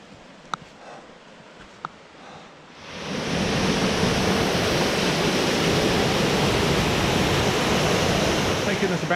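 Waterfall at Bucks Mills on the Devon coast roars as a loud, steady broadband rush that swells in after a quieter few seconds of outdoor ambience with a couple of faint clicks, then holds constant and close.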